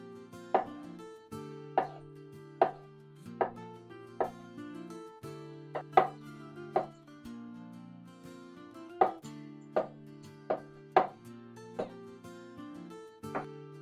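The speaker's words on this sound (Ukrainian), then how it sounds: "Нарізаємо шампіньйони." Champignon mushrooms sliced with a knife on a cutting board, a series of crisp, evenly spaced chops with brief pauses, heard over soft background music.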